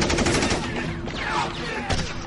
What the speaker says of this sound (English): then you hear the machine gun fire